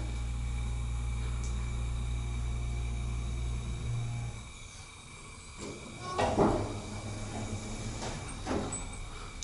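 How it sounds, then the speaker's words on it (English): A ThyssenKrupp Signa4 elevator door slides shut in a library building, a few soft scraping and thudding sounds following as the low motor hum drops away. "let's close the door"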